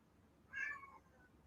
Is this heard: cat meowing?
yes